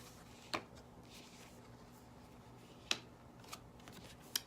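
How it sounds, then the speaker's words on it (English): Tarot cards being shuffled: a few soft, close snaps and riffles spaced apart over a quiet room background, no talking. "I try not to shuffle too much on camera because I know it bores people."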